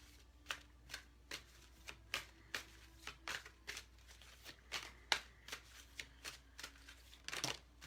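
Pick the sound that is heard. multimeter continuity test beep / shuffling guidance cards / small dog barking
shuffling guidance cards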